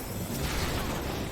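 A black mage spell explosion in Final Fantasy XIV: a dense, loud, broadband burst of rumbling noise that fills the whole clip, no voices present.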